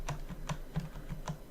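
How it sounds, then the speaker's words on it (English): Computer keyboard keys pressed in a quick, irregular series of soft clicks, about seven taps, close and quiet, while resizing a brush in Photoshop. "make this a little bit smaller by pressing the bracket keys"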